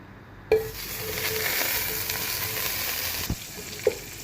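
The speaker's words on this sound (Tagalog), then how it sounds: "Ang una natin igigisa is ang butter." Butter melting in a hot pan for sautéing onion and garlic, starting with a sharp hiss as it hits the metal, then a steady crackling sizzle with a couple of clicks and knocks of a utensil, close and alone.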